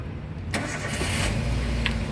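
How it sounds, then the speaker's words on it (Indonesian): A 2010 Daihatsu Terios 1.5 TX with a manual gearbox is started up close, a short starter crank catching into a firm engine burst, then settling into a steady idle hum. "Sekarang kita coba nyalakan mobil."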